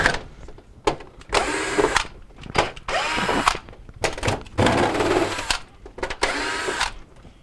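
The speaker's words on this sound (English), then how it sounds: "To remove the panel, we're going to remove the 6 Phillips head screws." A power driver backs Phillips head screws out of a Kenmore refrigerator's back panel in a run of short, close motor whirs, each burst separated by brief pauses.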